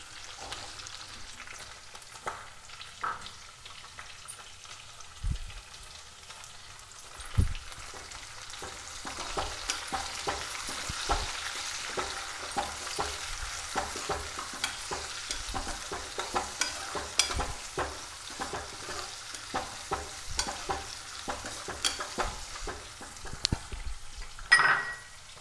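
Chopped onions fry in a pan for pepper egg fry. A quiet sizzle rises and thickens over time, marked by repeated clinks and scrapes of a utensil against the pan. No one speaks.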